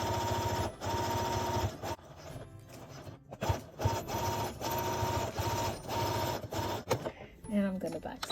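A home sewing machine set to slow speed stitches a zipper pouch made from upcycled lingerie, giving a steady mechanical whirr with brief pauses and restarts, close and fairly loud.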